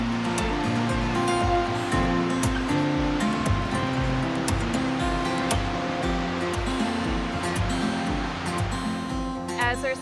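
Fast tidal current rushes and churns through swirling whirlpools beside a river spot, a steady broadband wash that runs loud and continuous beneath steady background music.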